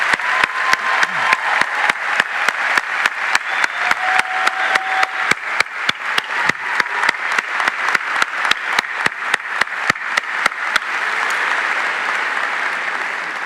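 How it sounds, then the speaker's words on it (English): A graduation ceremony crowd applauds the class of 2021 graduates at Chanhassen, sustained, dense clapping with sharp, regular hand strikes that runs for over ten seconds before fading into a softer crowd murmur. "Let's give them all another round of applause."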